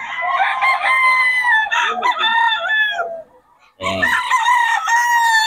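A lemon bull stag gamefowl rooster crows loudly and close, two long harmonic calls with a short gap between them; a voice speaks briefly.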